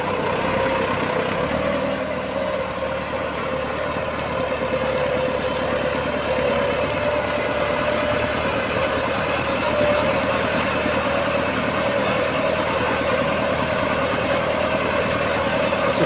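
A Massey Ferguson 375 tractor pulls a five-tine chisel plough through dry Punjab farmland at about 1500 rpm, its diesel engine a steady, dense drone throughout.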